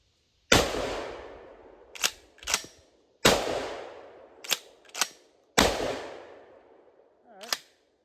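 A GForce GF3P 12-gauge shotgun fires Winchester shells in three loud, sharp blasts, each trailing off, with fainter mechanical clacks of the action cycling in between.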